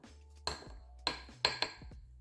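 A scoop knocking and scraping against a silicone mold while filling it with a cottage cheese ice cream mixture for bite-sized bonbons: four or five short, close clicks and taps over a quiet background.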